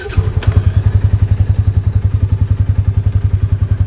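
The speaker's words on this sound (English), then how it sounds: "what I'm going to do here is go into low gear, and I'm going to go down a little bit of an incline here" A Polaris Ranger 570 UTV engine idles in low gear while rolling down an incline, giving a loud, close, even rapid thumping pulse with a faint rattle.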